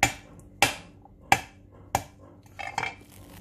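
Ginger being crushed by repeated blows in a kitchen, five or six sharp, loud thuds spaced roughly half a second apart, each with a brief clattery ring, no talking.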